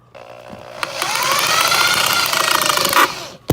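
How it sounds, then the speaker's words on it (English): A power drill fitted with a small bit bores a pilot hole through the metal seat track of a late-model Fox-body Mustang, close by. The whine rises and holds steady for about three seconds, then the drill releases with a clunk. "I'm starting with a smaller drill bit, which will assist me in getting the whole drill"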